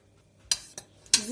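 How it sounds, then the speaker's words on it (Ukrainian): A spoon stirring a cooled fish marinade with 250 g of chili ketchup in a bowl, for mackerel and herring fillet: three brief scraping clinks of the utensil against the dish, fairly quiet, with near-silence between them. "Замішуємо наш маринад"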